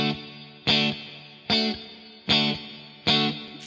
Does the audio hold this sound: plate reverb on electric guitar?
yes